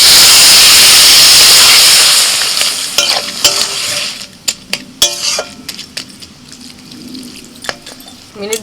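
Water poured into a sizzling crab curry in a hot pan sets off a loud, dense hiss that fades after a couple of seconds into scattered crackles and spoon knocks.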